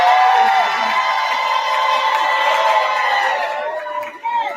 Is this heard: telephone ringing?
no